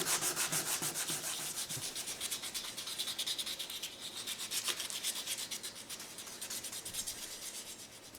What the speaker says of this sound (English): we're going to sit and spend some time hand sanding, and some more time hand sanding